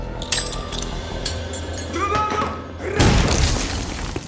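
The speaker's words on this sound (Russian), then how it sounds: "Это воздушный взрыв. Там пушка стоит внизу." A stunt air explosion fired from a cannon set up below, heard as a loud sudden boom with a crashing burst of debris midway, over a busy background with a brief whistle and earlier thuds.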